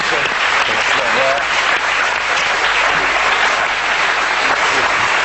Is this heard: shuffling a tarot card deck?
no